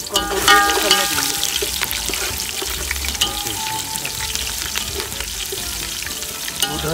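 Ginger garlic paste and chillies fry in a hot pan, giving a continuous loud sizzle and crackle close up, with occasional stirring scrapes and clinks throughout.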